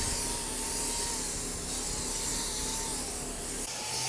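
Paint sprayer machine used for painting a large mural, running with a steady loud hiss and motor drone, its pitch wavering slightly, close up and uninterrupted until a brief drop near the end.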